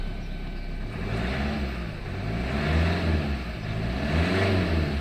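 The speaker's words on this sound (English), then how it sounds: "Couple of revs, and it'll bleed itself." A Vauxhall Mokka 1.7 CDTi diesel engine is revved after a service, its pitch rising and falling in two or three smooth surges over a steady idle, heard close and without talk.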